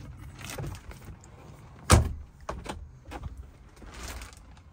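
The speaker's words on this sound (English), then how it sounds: "Drawer pulls out." A drawer slides out in the sleeper cab of a 2025 Peterbilt 589 truck, giving a sharp clack followed by a few lighter knocks and rattles in a quiet cab.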